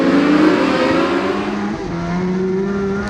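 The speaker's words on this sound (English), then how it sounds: "the gearing was causing the engine to hit the limiter" Race car engine at Gympie bouncing off its rev limiter, a loud, sustained, close engine drone with a steady high pitch that stutters and drops briefly midway before holding again.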